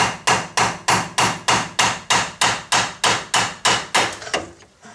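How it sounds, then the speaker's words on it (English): Steady hammer blows ring on the back of a truck axle universal joint on a Ford F250, about fifteen evenly spaced sharp metallic taps close up, slowing and fading at the end. "If you just hit the back of the universal joint, hold on the axle, and just tap on it."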